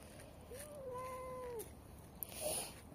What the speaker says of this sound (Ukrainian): Цей котик завжди кричить і просить.